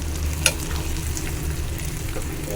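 Hot baghar tempering hits a pot of khichuri, giving a steady close sizzle over a low rumbling hum, with one brief sharp clink and no talking.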